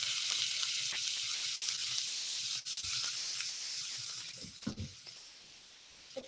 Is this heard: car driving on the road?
no